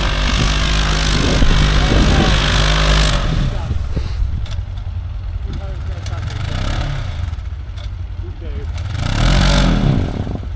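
An off-road vehicle engine on Tug Hill revs hard near full throttle, a loud, close roar that surges, dips to a lower rumble midway, then climbs again at the end, with voices talking over it.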